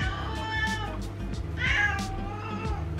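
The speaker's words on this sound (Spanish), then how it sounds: "ese maullido es de que quiere pollo" A cat meowing in a home kitchen while it smells roast chicken, with several loud close meows, one drawn out, over a steady low hum.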